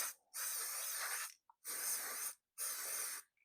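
Aerosol paint sprays onto a TT01e RC car body shell in three long, even hissing bursts from about six inches away, separated by short silences, close and fairly quiet.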